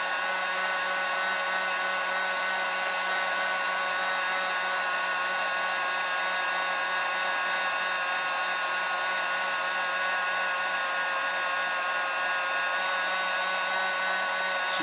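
A hot air gun heats the headlight glue on an MK4 Jetta headlight, putting out a constant, loud whine and blowing hiss with no change in level and no voices.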